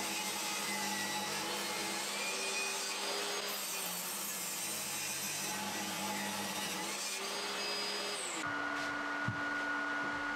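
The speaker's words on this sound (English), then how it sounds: "Once the jig is set up, it's just a case of running it against the table saw fence to make the cuts." A table saw cuts tapered plywood legs guided by a jig run along the fence, a loud steady whining drone with the blade's tone shifting as it moves through the wood.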